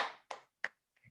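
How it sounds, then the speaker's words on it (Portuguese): A few quiet, separate hand claps at a women lawyers' network talk, three or four sharp slaps spaced unevenly over about a second, faint and close, with no talk over them. "E palmas para você, né"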